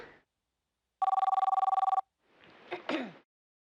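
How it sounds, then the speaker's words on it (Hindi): A telephone rings indoors in a household, one clear electronic trilling ring lasting about a second, followed by a brief rustle and handling noise as someone moves toward it. "उठाओ उठाओ, कब से फोन बज रहा है?"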